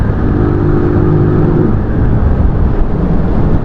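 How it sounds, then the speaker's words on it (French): A large car passes loudly on a rough, potholed road at the foot of Sainte-Victoire near Aix-en-Provence, a close, heavy engine roar with a rising whir that dominates throughout. "au bruit, ça avait l'air d'être une grosse bagnole"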